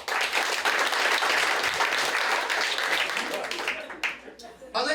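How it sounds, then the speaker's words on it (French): Sustained applause from a large audience at a live show, dense and loud throughout, tapering slightly near the end with a few scattered claps. "applaudissement?"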